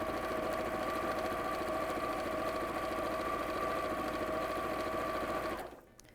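A sewing machine runs fast and continuously, stitching quilt pieces in one long straight seam with a steady whirring drone that stops abruptly near the end.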